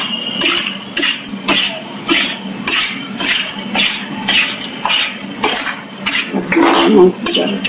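A spoon works thick moong dal halwa in a pan, giving a steady rhythmic scrape-and-thud roughly twice a second. It is close and fairly loud and continues without pause.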